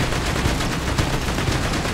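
Sustained machine-gun fire in Borderlands 2, a loud, dense, continuous rattle of rapid shots that holds steady for a couple of seconds with no pauses.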